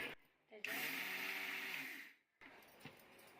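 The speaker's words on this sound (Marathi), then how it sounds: "आता आपण हे मिक्सरला वाटून घ्यायचे" A kitchen mixer grinder grinding chutney whirs loudly for about two seconds with a high motor whine, then stops; brief clatter and a short restart follow.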